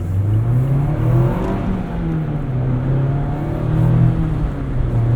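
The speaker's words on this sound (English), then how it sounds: "The timing of the shift points, the way the revs drop." A 2025 Mazda MX-5 Miata Club (ND3) engine hums steadily from inside the cabin, its revs rising and then dipping at each gear change, with continuous road and wind noise underneath and no talking.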